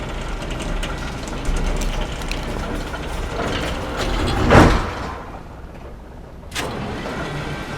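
A video-game cable car grinds along with a continuous mechanical rumble and ratcheting clatter, with a louder surge in the middle before the noise settles again.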